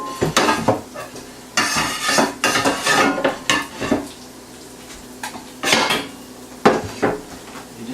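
Metal skillets, a smaller one and a deep-dish one, clank and clatter loudly in irregular bursts as they are lifted and set down against each other; no voices.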